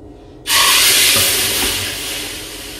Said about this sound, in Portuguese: Fez esse barulho que eu coloquei ela na água, panela